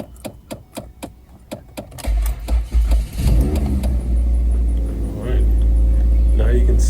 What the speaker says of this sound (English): So you put your key in the ignition, and then you would attempt to start it up.